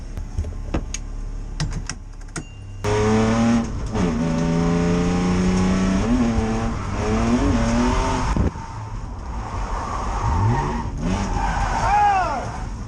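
BMW E36 drift car attempting a 360 entry on wet ground at night, engine revving and droning at changing pitch over a persistent hiss, with rising and falling whines toward the end and a voice talking underneath.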